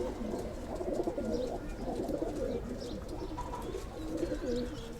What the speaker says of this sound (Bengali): কবুতরটা দেখেন